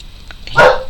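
A dog barks at a postman at the door, a single loud, near bark bursting out near the end after quiet background.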